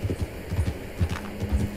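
Horse hooves pounding in a steady galloping rhythm in the video game Red Dead Redemption 2, repeated low thuds at close range with no talk over them.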